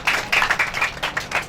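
Audience members at a sports academy event clap in a lively burst, close and loud, with uneven, bunched slaps repeating through the short stretch.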